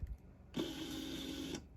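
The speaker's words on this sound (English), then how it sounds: "long page feed," ImageWriter II dot-matrix printer running a long page feed, a steady close mechanical whir lasting about a second with a sharp start and clean stop, no voices.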